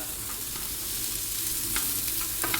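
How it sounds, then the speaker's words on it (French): Onions, garlic and parsley stems sweat in a pan, giving a steady close sizzle with a few scattered stirring clicks and scrapes throughout. "on fait suer les oignons, l'ail et les queues de persil"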